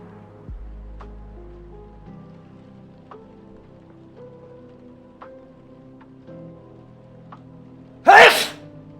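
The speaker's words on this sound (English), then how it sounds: "Gotta sneeze" One loud, dramatic human sneeze bursts out sharply near the end after a quiet stretch of faint background ticks and hum.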